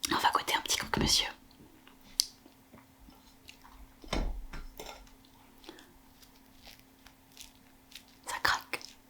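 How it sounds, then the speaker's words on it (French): A crunchy croque-monsieur is bitten into up close, with a crisp crackle of toasted bread followed by quieter chewing, set among soft whispered talk and light clinks of dishes. "On va goûter un petit croque-monsieur."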